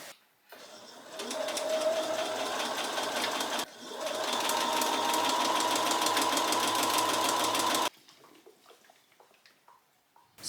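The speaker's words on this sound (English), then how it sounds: "I'm going to be sewing another 1/4 inch seam here" Sewing machine stitching a quarter inch seam on dress fabric, two steady runs of rapid mechanical whirring with a brief pause between, then quiet handling sounds.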